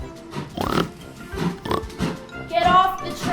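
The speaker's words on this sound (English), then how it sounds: "Get off, you stupid pig!" A pig on railway tracks grunts and oinks in several short bursts, mixed with a shouting voice and a higher squeal near the end.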